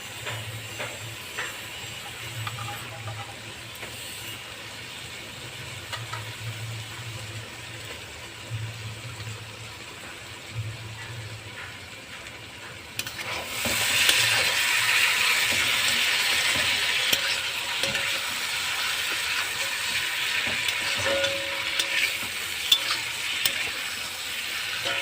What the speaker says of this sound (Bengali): ভেজে নিই, কাঁচা গন্ধটা দূর হয়ে যাক